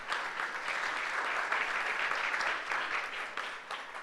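Steady, dense applause from an audience at a professional accounting conference, sustained and fairly loud for about four seconds without a clear break.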